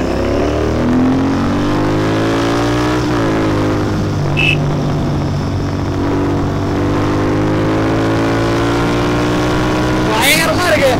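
Royal Enfield Continental GT 650 twin-cylinder motorcycle on the road, engine droning loudly and steadily with rising pitch as it accelerates, wind noise throughout and a short rev change near the end.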